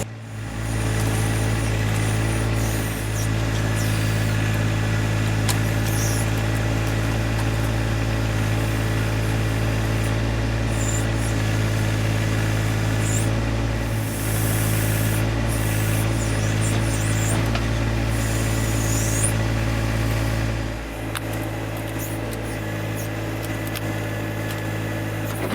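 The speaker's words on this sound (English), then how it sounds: "Christy just decided to use the backhoe" A John Deere 1025R compact tractor's engine runs steadily close by while the backhoe is worked, a constant low rumbling drone with slight shifts in load and a small dip near the end, no talking.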